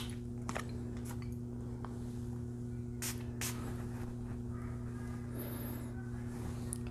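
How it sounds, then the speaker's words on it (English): A Versace Dylan Blue perfume atomizer spritzes onto test paper in a few short, sharp hissing bursts over a steady background hum. "So let me spray it."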